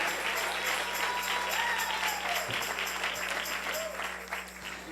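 A church congregation claps at a 2009 Spanish-language service, a continuous crowd ovation with a few faint cheers and whoops rising over it before easing off slightly near the end.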